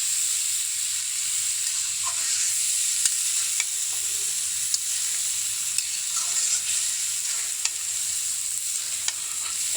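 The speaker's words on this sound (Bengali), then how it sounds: "একদম কম তেলে রান্না করা হচ্ছে।" Khichuri cooked in very little oil sizzles in a pan, an even close hiss running throughout with occasional faint clicks of stirring and no voices.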